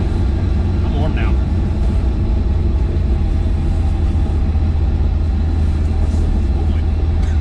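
A supercharged 1967 Chevrolet Nova puttering along while driving, a loud, continuous deep engine rumble heard up close from inside the car.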